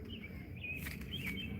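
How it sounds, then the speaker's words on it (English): Faint birdsong outdoors: a few short chirps and whistled calls, quiet over a low background hum, with no talking. "Just listen to the birds for a minute because they're talking to you."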